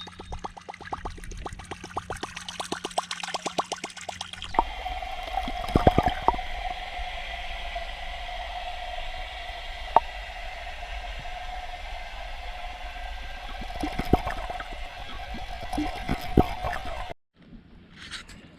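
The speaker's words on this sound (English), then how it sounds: "And that's got more of that heavy pop." Musky topwater fishing lure chopping and popping underwater, heard as a dense run of wet gurgles and squishy pops with a steady watery churn, close and continuous before fading out abruptly near the end.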